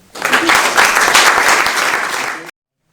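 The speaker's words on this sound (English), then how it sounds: "So I think a round of applause again" An audience at a schools history presentation bursts into a round of applause, many hands clapping loudly and evenly for about two seconds before it cuts off abruptly.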